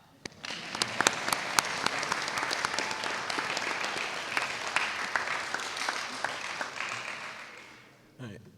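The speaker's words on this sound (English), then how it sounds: "You may now applaud." A school recognition-day audience applauds scholars, breaking into dense, sustained clapping that holds steady for several seconds before tapering off, with a voice briefly heard at the end.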